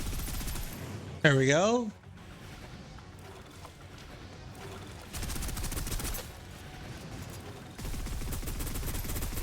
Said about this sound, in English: I'm gonna go ahead and shoot that out.